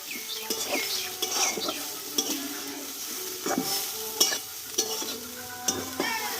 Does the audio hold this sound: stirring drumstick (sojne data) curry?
yes